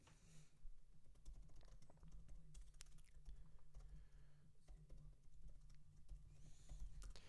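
Rapid typing on a computer keyboard clatters steadily throughout, close and fairly quiet, with dense irregular key clicks over a low background hum.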